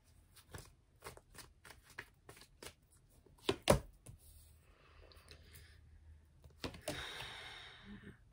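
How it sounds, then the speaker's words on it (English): Tarot cards riffled and slapped down in a string of sharp, close papery clicks, followed by softer rustling as more cards are pulled and a final burst of shuffling, with no one speaking. "Let's just fucking pull more cards, shall we?"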